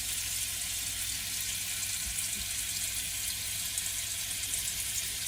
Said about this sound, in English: You hear the macerator come in now. That's the macerator, and then the water coming back in to the required level.